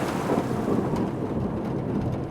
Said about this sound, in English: Thunder strikes.